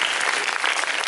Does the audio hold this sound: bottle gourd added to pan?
no